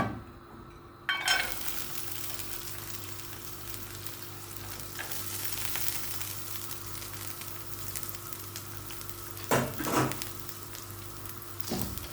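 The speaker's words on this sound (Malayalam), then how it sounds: "നമ്മൾ ഈ സമയത്ത് ഈ തേങ്ങ ഒന്ന് ചെറുതായിട്ട് മൂപ്പിച്ചെടുക്കണം" Grated coconut lightly roasting in coconut oil in a pan for Kerala kadala curry, with a steady soft sizzle and occasional louder stirring scrapes near the start and around the tenth second.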